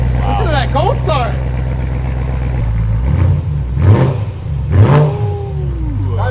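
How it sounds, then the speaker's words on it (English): Cold start of a car fitted with an aftermarket Ali Baba exhaust, a deep rumbling engine that flares in short revs while several people talk and exclaim over it close by. "Listen to that cold start."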